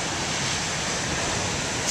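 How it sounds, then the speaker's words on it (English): Waves crash and churn at Beaver Tail Lighthouse, a continuous broadband roar of surf mixed with wind rumble, steady and fairly loud with no voices. "come to Beaver Tail Lighthouse and videotape the waves"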